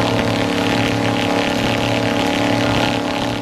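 High-powered V8 engines drive propellers that blast wind at a vinyl privacy fence, a loud, continuous droning roar that holds steady for the whole stretch.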